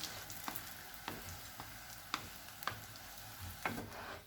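A chicken cheese paratha fries on its second side in a pan, a low steady sizzle broken by several sharp ticks and taps at irregular intervals, with no voices.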